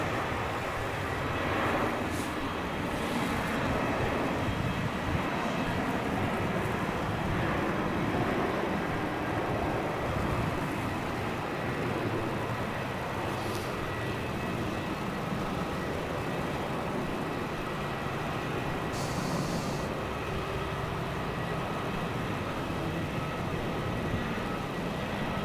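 A jet rolls for takeoff on runway 34 at Melbourne Airport at night, a distant, steady engine roar sustained throughout, heard from a terminal vantage point with faint intermittent background clicks.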